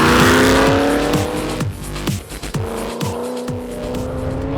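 A car accelerates hard and close by, its engine note climbing again and again as it shifts up through several gears, with a brief dip between shifts.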